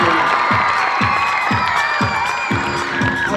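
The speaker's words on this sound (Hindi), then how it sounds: "पहले तो एक बार जोरदार तालियां बजनी चाहिए।" A school crowd at Saraswati Residential School in Patna cheers loudly as toppers are welcomed, with shouts and whoops over clapping and a steady low thumping beat that repeats about every half second.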